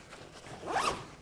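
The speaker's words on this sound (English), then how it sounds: "Let me zip up the main compartment here." A zipper pulled closed on the main compartment of a Haley Strategic Flatpack Plus backpack: one short, close rasping zip swelling to a bright peak near its end, under a second and a half, with no talk.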